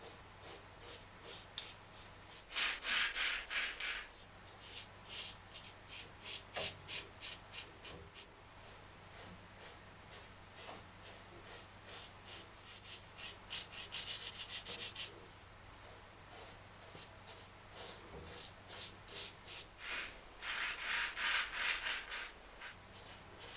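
A safety razor cuts wet beard hair during a traditional wet shave with shaving soap, giving close, rhythmic rasping strokes in steady bursts with brief pauses between passes. No one talks.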